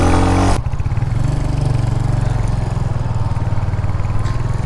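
A Royal Enfield Hunter 350 motorcycle runs close by with a steady, loud thumping single-cylinder engine drone after an abrupt shift in tone at the start, holding an even pulse throughout.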